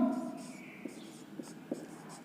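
Pen scratching across paper while working out a maths solution, soft and close, with brief strokes and taps under quiet speech.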